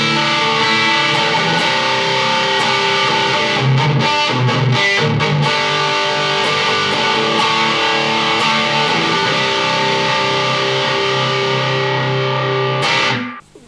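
Electric guitar played through an EVH 5150 Iconic Series 15W 1×10 tube combo amp, volume on 6 with effects off except reverb: a loud, sustained overdriven tone with steady chords and a few choppy muted hits, fading out at the end.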